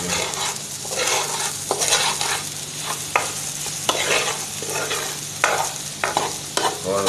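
Egg mixture stirred and fried in a pan for an anda ghotala, with steady close sizzling and repeated sharp scrapes and clinks of the spoon against the pan, no talking.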